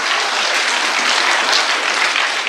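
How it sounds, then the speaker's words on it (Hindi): An audience claps enthusiastically after a heartfelt song recital, a dense, loud, continuous wash of applause from many hands close by. "एक बार मजमूई तौर पे यार तालियां बजनी चाहिए, इतना शानदार गीत पढ़ा जा रहा है"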